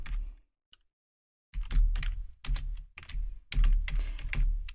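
Rapid typing on a computer keyboard, close and crisp, in bursts of keystrokes after a short quiet gap, with no talking.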